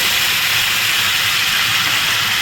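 Ground paste of tomato, onion, ginger and garlic hits a hot pan, giving a loud, steady steam-like hiss of frying that holds without a break throughout.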